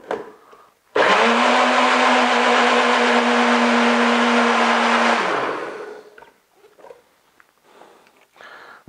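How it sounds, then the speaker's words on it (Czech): A blender whirs loudly and steadily for about four seconds while mixing a protein shake of whey powder and cold water, then winds down, followed by faint clinks and handling noises. "A můj oblíbený mixér."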